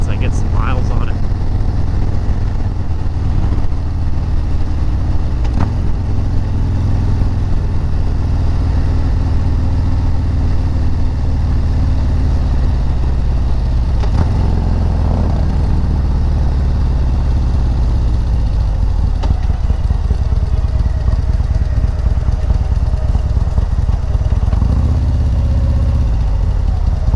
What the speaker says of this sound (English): Get off here and just kind of walk around the bike and let you guys hear it running.